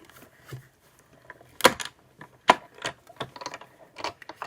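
A hand-cranked die cutting machine runs a swirl die taped to paper through its rollers, giving close, sparse mechanical clicks and ratcheting clunks with two sharper snaps, over a quiet background.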